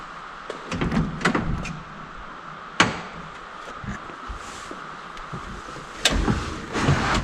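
A car door opens and thumps shut while someone climbs into a car being worked on after a gearbox change, with steady rain noise throughout and a few sharp knocks and clunks.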